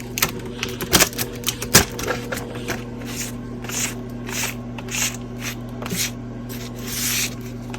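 Tape is ripped in short rasping tears from the sides of a beehive during a late February check, with several sharp strips early, then softer scraping pulls, close and alone.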